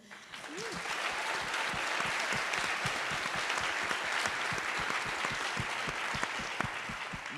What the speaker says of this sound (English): Let us applaud them